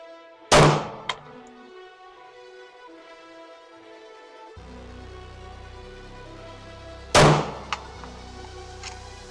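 A Sig Sauer P211 GTO pistol fires two sharp shots at a 25-yard target, spaced about seven seconds apart over quiet background music.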